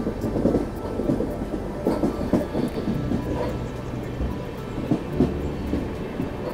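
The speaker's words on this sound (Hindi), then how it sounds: "देखते ही देखते दूसरी टनल भी आ चुकी है मतलब हमारी जो ट्रेन है अभी पहली टनल से नहीं निकली है और यहाँ दूसरी टनल में भी ट्रेन ने एंट्री कर ली है" A passenger train runs through a tunnel on a mountain ghat section in South India, a loud, close, enclosed rumble with steady rattling wheel clatter throughout, and no talking.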